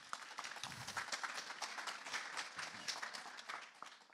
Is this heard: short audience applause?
yes